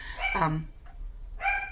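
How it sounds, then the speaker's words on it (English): A small Havanese dog barks indoors, two sharp close yaps separated by a short pause, loud and clear with no talk over them. "my little Havanese is barking at something"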